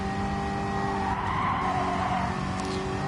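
Car tires skidding and sliding in the racing video game Gran Turismo Sport, heard as a steady, continuous screech layered over a droning engine hum, at a constant level throughout.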